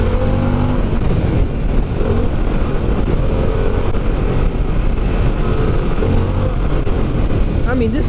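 A Harley-Davidson Pan America motorcycle accelerating after a downshift, its engine a loud, continuous close roar mixed with rushing riding noise.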